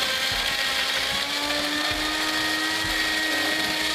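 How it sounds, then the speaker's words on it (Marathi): Electric mixer blender whirring steadily at close range as it blends a frozen fruit smoothie, a constant loud motor hum with slight rattling and no talk. "खूप मेहनतीने तू मिक्सर मध्ये स्मूदी तयार केलीत का?"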